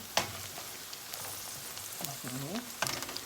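Onion stews gently in a pan with a faint, low sizzle, a few soft utensil clicks, and brief voice-like tones near the end.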